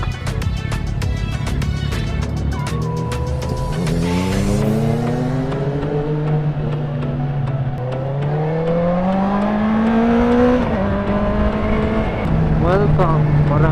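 A motorized tricycle in the Philippines drives past with a rising and falling engine drone that shifts pitch as it nears and pulls away, while people chat nearby.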